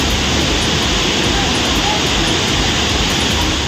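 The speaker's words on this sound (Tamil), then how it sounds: "இதனால் வெள்ளி நீர்வீழ்ச்சியில் தண்ணீர் ஆர்ப்பரித்து கொட்டியது." Silver Falls waterfall in Kodaikanal roaring after heavy rain, a loud, steady broadband rush of falling water that fills the whole stretch without pause.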